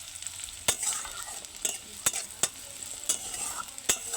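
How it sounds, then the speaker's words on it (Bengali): Chopped onion frying in hot oil gives a continuous crackling sizzle, broken by sharp, repeated scrapes of a spatula stirring the pan. "পেঁয়াজটা ভালো করে ভেজে নেব।"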